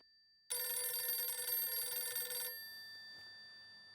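A phone rings loudly with a steady electronic trill for about two seconds, then stops, leaving a faint fading hum.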